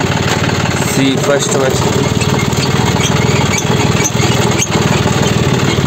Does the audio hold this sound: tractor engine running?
yes